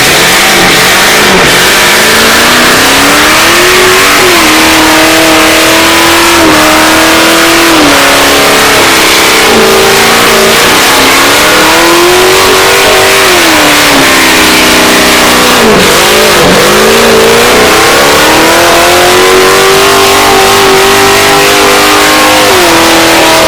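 A stanced car, either a 240 or a Mustang GT, does a loud, close burnout. The engine revs up and down in long, wavering sweeps without pause, and no voices are audible over it.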